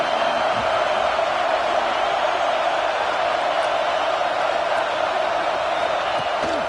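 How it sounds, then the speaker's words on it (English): A home crowd roars steadily in a college football video game between Georgia and Notre Dame, a dense, sustained wall of cheering that holds at an even, loud level throughout. "Here comes his home crowd as the defense tries to get off the field on 3rd down."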